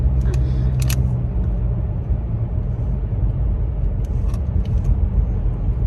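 Car driving along winding rural roads near a rented cabin, a steady low rumbling road and engine drone throughout, with brief faint clicks over the top.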